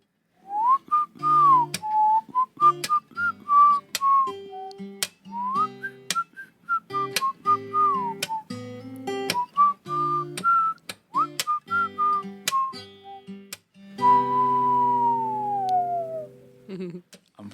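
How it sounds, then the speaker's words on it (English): Melodic human whistling opens the song, a clear, close tune of short rising and falling phrases over a soft plucked accompaniment, ending on one long sustained note. "It starts with a whistle."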